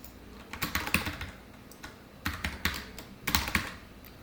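Typing C code on a computer keyboard, three short bursts of quick key clicks separated by brief pauses, close and fairly soft.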